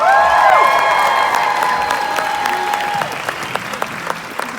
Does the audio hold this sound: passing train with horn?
no